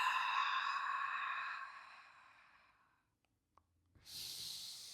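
A long, breathy exhale during an abdominal exercise fades out over a few seconds, followed by near silence, a small click, then a sharp new intake of breath.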